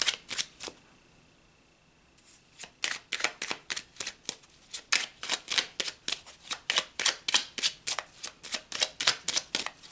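Tarot cards being shuffled by hand, a quick run of crisp riffling bursts after a short quiet pause, close and fairly loud, with no talk.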